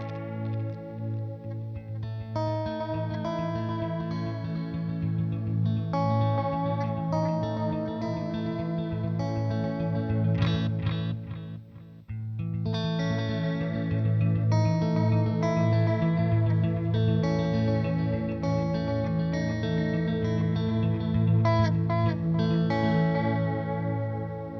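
PastFx Echo 600 echo effect pedal processing a sustained, dreamy guitar-like tone with chorus-style shimmer and distortion, loud and continuous, with a brief dip midway before the washy repeats resume.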